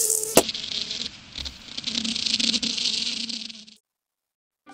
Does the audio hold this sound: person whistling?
no